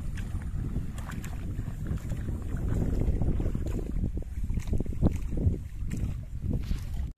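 An Eicher 485 tractor working in a wet paddy field, its low engine rumble steady and close, mixed with sloshing water and mud and some wind noise on the microphone.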